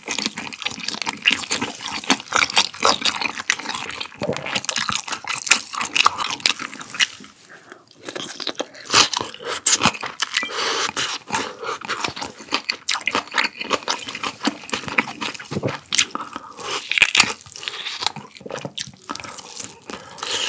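Close-up biting and chewing of braised Korean beef oxtail, with wet, sticky mouth sounds and many quick clicks and smacks coming in an irregular, continuous rhythm.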